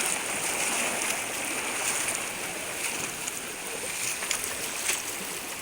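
The fast-flowing Ciliwung river, about knee-deep, rushing past close by in a dense, steady wash of water noise with small splashes, no voices.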